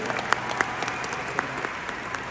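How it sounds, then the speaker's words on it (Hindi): An audience at a company success-day event in Delhi claps in a short burst of applause. The sound is fairly faint and steady, with a few sharper claps standing out. "एक बार इस बात के लिए भी तालियां बनती हैं"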